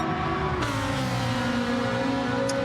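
A Ferrari racing car engine roars steadily in a racing video game, holding a loud sustained drone that drops in pitch with a gear change early on, then climbs again.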